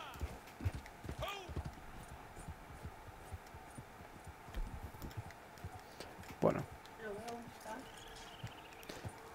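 Horse hooves clip-clop in sparse, uneven steps in the video game Red Dead Online, faint and mixed with quiet background hum and a few other soft knocks.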